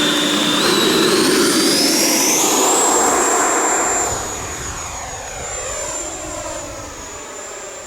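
An FMS Avanti 90mm electric ducted-fan model jet on an 8-cell battery takes off with a loud, rising turbine-like whine that climbs in pitch, then settles into a steady high scream as it pulls away.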